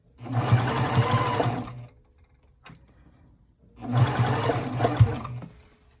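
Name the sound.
sewing machine stitching a sweater seam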